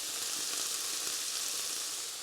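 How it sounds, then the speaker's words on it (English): Steady, dense sizzling of food frying in a pan, close and continuous with no talking. "You can hear it sizzling away nicely."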